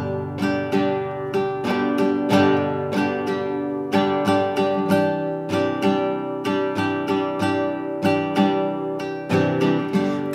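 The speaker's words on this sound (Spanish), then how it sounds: "y otra vez arrancamos el rasgueo." Acoustic guitar strummed in a steady rhythmic pattern, bright repeated down-and-up strokes with accented chord hits and a smooth transition into a fuller, continuous rasgueo; close and loud, no voices.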